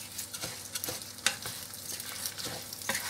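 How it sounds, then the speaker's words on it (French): Rice frying in a pan with a soft continuous sizzle, punctuated by quiet scraping stir strokes, close but faint, with no talking. "Donc je fais frire le riz comme ça"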